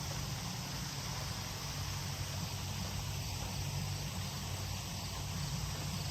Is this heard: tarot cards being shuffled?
no